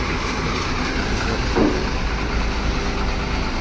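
A loaded truck rolls onto a weighbridge, its engine and rolling rumble continuous and fairly loud, with a short air-brake hiss near the middle and no talk.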